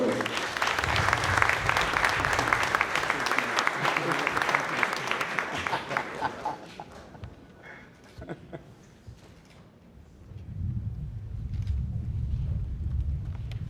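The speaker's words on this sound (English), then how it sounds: "Please, one more round of applause for the board president." Audience applause at a Guyanese community awards gala marking the 150th anniversary of emancipation in Guyana; loud, dense clapping fades midway, then a low rumbling wash of crowd noise returns near the end.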